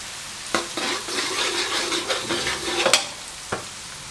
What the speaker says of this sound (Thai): ขออนุญาตผัดไปก่อน